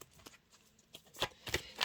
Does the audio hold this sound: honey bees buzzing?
no